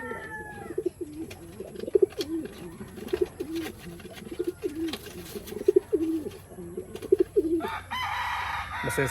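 Pet pigeons coo repeatedly in soft, rhythmic rolling calls at close range, with a rooster-like call and scattered clicks and rustles in the background.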